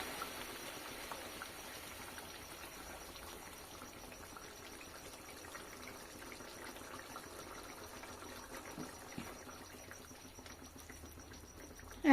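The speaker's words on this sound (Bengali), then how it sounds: "একবার নাড়াচাড়া করে নেব।" Egg curry gravy simmering in a pan, giving a faint, steady bubbling hiss with a few soft stirring scrapes near the end.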